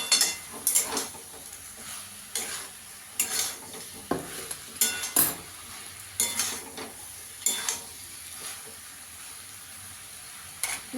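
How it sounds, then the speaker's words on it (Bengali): Mustard and poppy seed paste stirred and fried in a pan for a Bengali shukto, with repeated scraping strokes and a soft sizzle, close and alone with no talk. "এখানে আমি সর্ষে পোস্ত বাটাটা এবার দিয়ে দেবো। দিয়ে একটু ভালো করে কষিয়ে নেব।"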